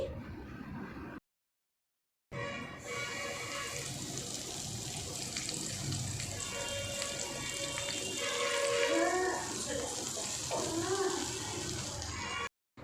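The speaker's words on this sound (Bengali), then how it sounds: "আগে থেকে যে তেলটা গরম করে রেখেছিলাম সেই তেলটা দিয়ে দিচ্ছি" Hot oil is poured over the spice mix for a raw mango pickle, making a steady, loud sizzling hiss that runs for about ten seconds after a brief silence.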